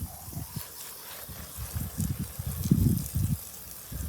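Water poured at the base of a garden plant to soak the soil deeply, heard as close, uneven gurgling splashes that swell and fade in short bursts.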